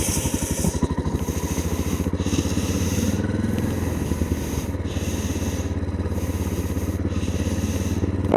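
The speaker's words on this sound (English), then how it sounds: "Wheel spin. And into the sand." Vehicle wheel spinning in loose sand in New Zealand's central North Island: a revving motorbike-like engine with gritty, scraping spin noise, surging in repeated pulses over several seconds.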